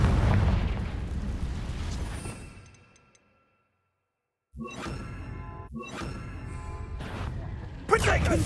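Confringo blasting spell explosions in Hogwarts Legacy: a loud rumbling blast fades into a moment of silence, then several sharp, punchy detonations follow in quick succession, close and forceful.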